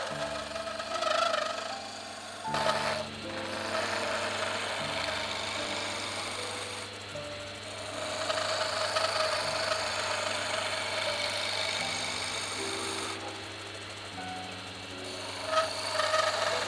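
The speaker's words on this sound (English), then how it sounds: "The skew chisel and the adjustable sizer are used on the stretchers." A skew chisel and an adjustable sizer scrape and rasp against wooden chair stretchers spinning on a lathe, a steady loud grinding over the motor's hum that cuts off sharply between passes.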